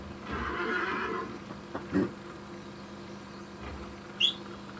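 Horse whinnying in the Red Dead Redemption video game, a brief high call rising over steady game ambience, with a few soft hoof-like knocks and a short chirp near the end.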